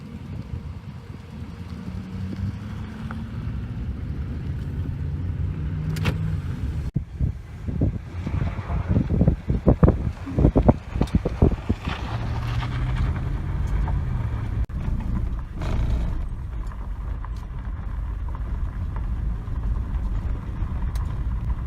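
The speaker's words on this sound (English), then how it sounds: "let's go and hop back in the vehicle, drive down this dirt road" A vehicle driving down a dirt road near Fort Bowie produces a steady engine rumble mixed with wind buffeting the microphone. A few louder knocks and bumps come through near the middle, and no one speaks.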